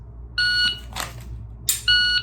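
Shot timer used in dry fire practice gives two sharp electronic beeps, one early and one at the end, with a brief rustle between them and no talk.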